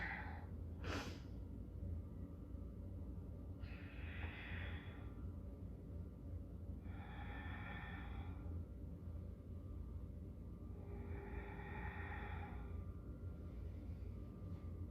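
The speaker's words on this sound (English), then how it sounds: "Let's do 3 more exhales." Deep, slow exhales during a yoga flow, a few long breathy releases spaced several seconds apart over a low steady room rumble, each one soft and airy.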